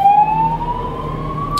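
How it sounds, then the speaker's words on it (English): A fire engine siren on a city street, sounding as a loud, steady, slowly rising wail close by for a second or two, with traffic rumbling underneath. "Fire engine."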